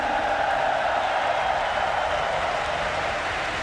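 An arena crowd at the Apex Legends ALGS Year 4 Championship grand finals keeps up a loud, unbroken roar of cheering and applause.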